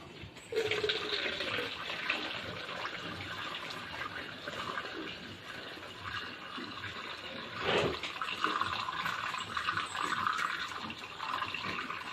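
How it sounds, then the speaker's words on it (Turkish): Milk poured into a feeding bottle for a ten-day-old calf in a barn, a continuous close rushing and gurgling stream of liquid that swells briefly midway, with no speech. "şimdi buzağımızın sütünü dökelim biberona"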